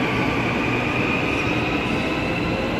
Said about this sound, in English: the train will stop at Edgewater